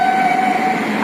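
A Bangalore metro train passes close by, giving a steady, loud rolling rumble with a sustained tonal whine running through it, with no voices present.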